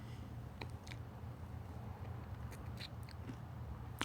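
Crunchy Doritos chips being bitten and chewed close to the mic, a few sharp crunches scattered over a steady low background hum, with no talking.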